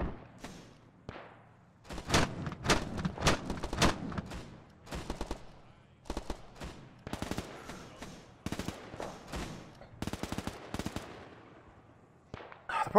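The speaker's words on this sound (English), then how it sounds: "The problem with the AA gun is there's no zeroing." Anti-aircraft gun firing in a World War II video game battle at Chef Du Pont, loud bursts of rapid automatic fire repeating over several seconds with brief pauses between volleys.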